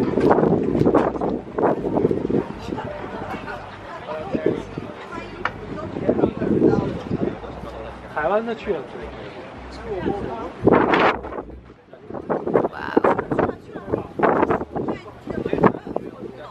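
Strong night wind in Hong Kong buffets the microphone in loud, rumbling gusts that come and go, with a brief lull, while someone talks over it at close range.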